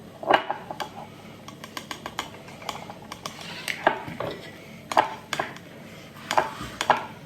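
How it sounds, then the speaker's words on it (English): Eggs whisked in a bowl: a quick, busy run of metallic clicks and taps against the bowl, with louder strikes roughly every second, close and without talk. "You're going to whisk that up."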